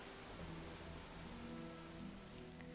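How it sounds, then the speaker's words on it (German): Steady rain falls in the Gothic video game, a soft continuous hiss throughout with faint tonal background music beneath it and no speech. "Oh, es regnet."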